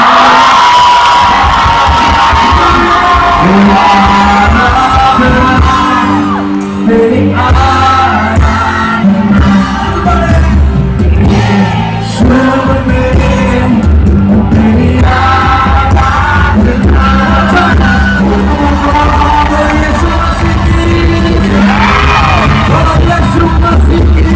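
A large crowd at an evening Christian gathering on a school ground in Ranchi shouts and cheers loudly for over twenty seconds, with yells and whoops rising in waves over loud amplified music.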